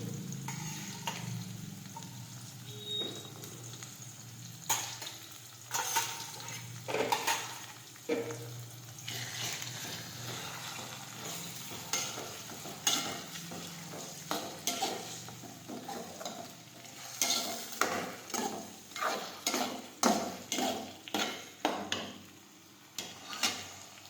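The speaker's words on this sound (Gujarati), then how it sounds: "સમારેલા ટમેટા નાખીશું" Chopped tomatoes go into frying urad dal and are stirred, giving a soft, steady sizzle with repeated scraping stirs and clinks of a spoon against the pan that grow busier toward the end, with no talking.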